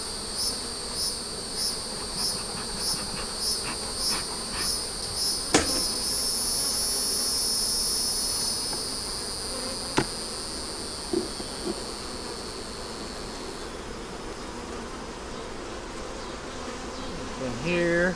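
Bees humming around an open beehive during an inspection, a constant close buzz with regular pulsing whines at first, then a steadier drone broken by occasional sharp knocks and clicks of handling.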